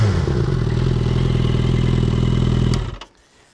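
A Suzuki Bandit 650N motorcycle engine runs loud and close with a steady, clattering idle for almost three seconds, then abruptly cuts out, leaving near silence.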